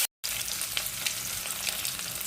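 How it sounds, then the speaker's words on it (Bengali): Eggs fry in hot oil with a pinch of salt, a dense, steady crackling sizzle heard close up after a brief moment of silence. "চলো ডিমগুলো ভাজা হয়ে গেছে,"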